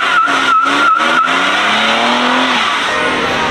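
A lifted 2024 GMC Denali truck revs hard and its tires squeal loudly, a sustained, close screech over engine roar that slides in pitch and then fades, with no talking.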